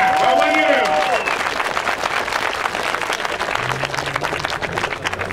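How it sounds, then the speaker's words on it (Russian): Crowd applause fills a fight venue after an MMA bout ends, dense steady clapping with voices and cheering mixed in, a shout near the start and a murmur of talk running underneath. "Аплодируем."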